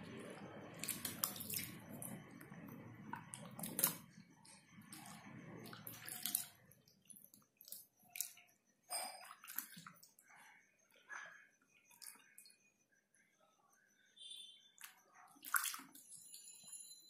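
Hands dip and swish in a bowl of lukewarm water during a winter hand-care routine, giving quiet, intermittent splashes and drips separated by near silence.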